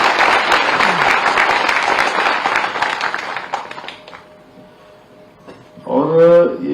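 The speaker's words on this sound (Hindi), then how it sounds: "एक बार इन सब बच्चों के लिए ताली बजा दीजिए" Audience applause for students at a public event with the chief minister, loud and dense clapping for about four seconds that fades out, followed by a brief voice speaking.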